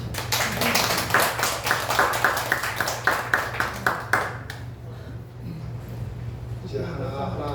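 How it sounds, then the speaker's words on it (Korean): A church congregation claps for a pastor during a service, a rhythmic round of clapping over a low hum that fades after about four seconds, followed by speech. "건강한 모습으로 나오신 최 목사님 빨리 건강 회복하시라고 박수 한번 드립니다"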